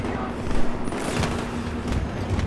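Suppressed gunshots from a first-person shooter video game, a few muffled shots over a steady hum of game ambience and background noise.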